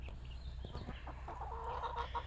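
Backyard chickens cluck softly nearby in short, uneven bursts, with a low, steady rumble of background noise underneath.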